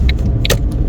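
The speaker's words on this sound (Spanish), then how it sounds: "Van a escuchar más los ruidos del carro." Low rumbling interior drone of a moving car heard from inside the cabin, steady and fairly loud, with a few small rattles and clicks and no talking.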